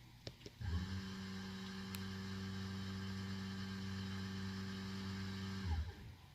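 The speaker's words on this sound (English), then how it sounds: "So I'm going to be quiet and listen for the ABS pump." The ABS pump motor on a Porsche 911 997, cycled by a Foxwell NT510 scanner, spins up abruptly into a steady, loud electric hum that runs for about five seconds and then winds down, with a few faint clicks before it starts.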